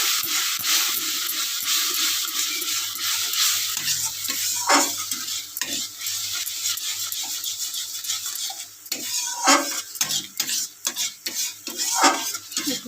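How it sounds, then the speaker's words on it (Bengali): Spices fry and sizzle in a pan as fresh ground mushrooms cook, with steady crackling hiss and occasional stirring clinks of a utensil against the pan, close and continuous throughout. "একটু লাল লাল করে ভাজা হয়ে যাক"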